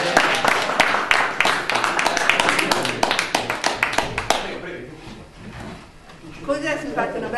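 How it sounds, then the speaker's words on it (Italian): Scattered hand claps from a small audience at a photo contest award ceremony in Solza, Italy. The clapping is brisk and clustered at first, then thins out and stops, and a voice speaks near the end. "Vogliamo fare un applauso."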